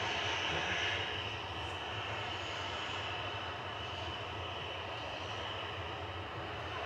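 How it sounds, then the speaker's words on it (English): A Ryanair Boeing 737-800 jet lined up for takeoff at Manchester Airport gives a steady, loud engine roar and whine that holds evenly throughout, heard from a moderate distance with no talk. "Ryanair to Lisbon lined up and ready to go. Flight 2252, 737-800"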